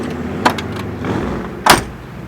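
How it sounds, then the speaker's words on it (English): Door of a 1968 Pontiac LeMans swinging shut with a solid thunk, one short close impact near the end, preceded by a softer click or latch sound. "I love the way these doors close on these cars. It's a nice solid thunk."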